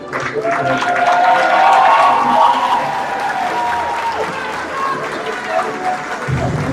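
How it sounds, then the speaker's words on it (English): Applause from a crowd at a Job Corps graduation ceremony in honor of the 2024 graduates, a loud, sustained wash of clapping that fades gradually, with voices and other sounds mixed in. "let's give a round of applause to our 2024"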